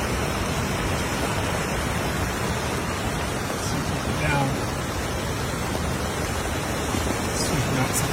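Floodwater rushes through a drain beside a studio lot during a powerful Pacific storm in California, a loud, unbroken roar of churning water that fills the whole stretch.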